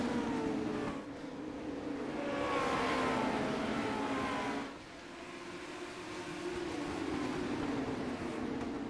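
Legends race cars roar at Lanier National Speedway as the field takes the green, engines revving and surging past in a steady blended drone, pitch rising and dipping, fairly distant.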